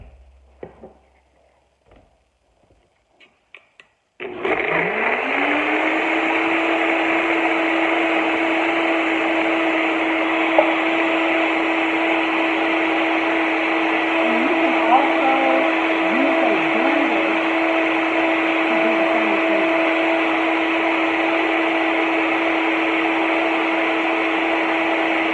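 A blender making a smoothie with ice starts after a few seconds of quiet clatter, spinning up to a steady loud whir that runs on unbroken with faint rattling inside.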